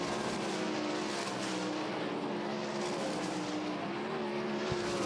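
A sprint car laps a speedway during qualifying, its engine a steady, distant drone with harmonic whine that holds throughout, with no speech over it.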